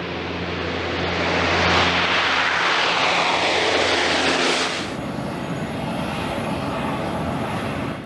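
Loud, steady engine roar of a P-3 Orion maritime patrol aircraft, heard close and sustained, fuller at first, then changing to a thinner, even drone partway through with no talk.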